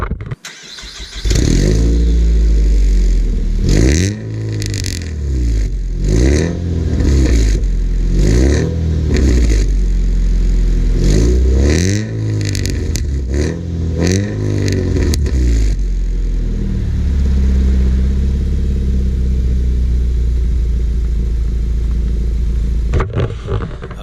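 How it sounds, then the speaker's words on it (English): A 2004 Nissan Sentra SE-R Spec V cranks and fires up, then its exhaust barks through a string of sharp revs before settling into a steady, loud idle close by, with no talk. "give you guys a little start up. That way you can hear what this exhaust sounds like"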